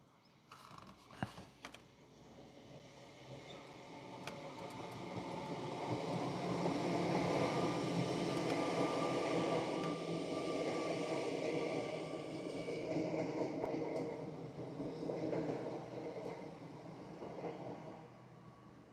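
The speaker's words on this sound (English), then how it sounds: "It's an 805, Avanti's new 805 coming past." An Avanti West Coast Class 805 train passing by in the UK, a broad rumbling roar that swells over several seconds, holds, then slowly eases, with faint creaks and clanks of the wheels.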